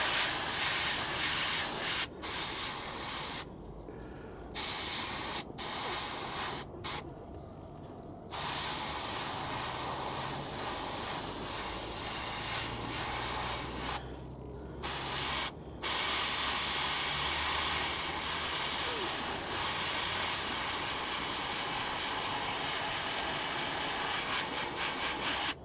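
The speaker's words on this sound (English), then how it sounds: "Now we're going to airbrush some ultra matte varnish to get rid of that horrid looking gloss varnish." An airbrush sprays brown paint onto a Space Marine miniature's leg, a close, steady hiss cut by several short pauses over a long stretch.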